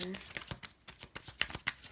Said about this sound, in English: Excuse my shuffling.